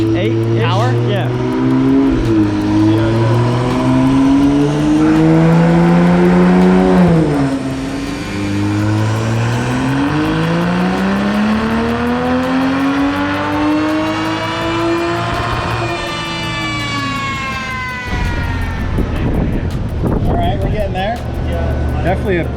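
A car on a dyno with a custom MS109 tune from Wedge Performance runs on race gas, its engine climbing through a long, loud rev and falling back, with people talking over it.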